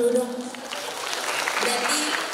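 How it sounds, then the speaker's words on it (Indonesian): Audience applause in a campus lecture hall, a steady wash of clapping from a crowd, moderately loud and continuous, with a voice briefly audible at the start. "Tepuk tangan dong."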